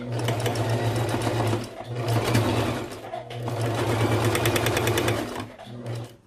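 A domestic sewing machine runs steady straight stitches through fabric for a baby bandana bib, its motor humming loud and close with brief pauses where the presser foot is lifted and the cloth turned before stitching resumes.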